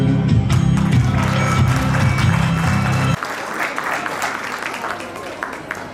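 Audience applause at a farewell and welcome ceremony, a loud, dense wash of clapping that runs throughout, with sustained music or tonal sound underneath for the first half before the clapping continues more on its own.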